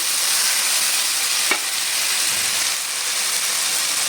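A ground paste of cumin and ginger fries in a pan with a dense, continuous hiss and sizzle that stays close and loud throughout, broken by one brief clink near the middle.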